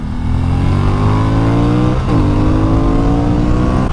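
A racing motorcycle engine revs hard on a track circuit, loud and close, climbing steadily in pitch through the gears with a brief dip at a shift, alone without speech.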